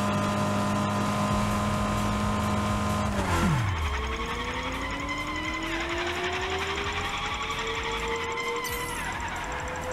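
A car drifting in Fortnite Rocket Racing: a loud, steady engine drone that drops in pitch, then rises again in a long whine with a squealing skid, heard close with no talk.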